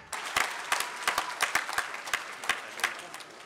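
Audience at a graduation ceremony breaks into scattered applause, with distinct sharp claps standing out over a steady patter of hands, moderately loud in a large hall.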